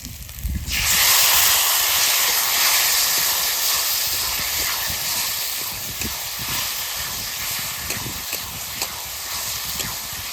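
Fried ridge gourd and potatoes hit hot oil in a pot for a rohu fish curry, setting off a sudden loud, hissing sizzle that stays steady and slowly eases.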